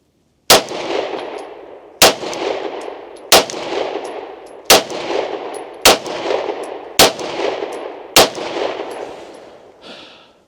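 Beretta M9A1 pistol fired during winter outdoor practice: seven sharp, loud shots spaced about a second apart, each ringing out with a short echo tail, nothing else in between.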